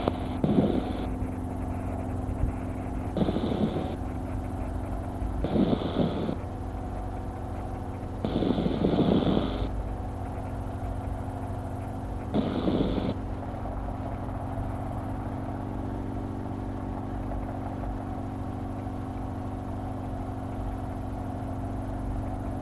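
A helicopter's engine drones steadily throughout, heard from inside the cabin while flying over Magic Mountain in Southern California, broken by several short bursts of radio chatter.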